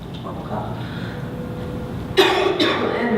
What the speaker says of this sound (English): I really have this horrible cough.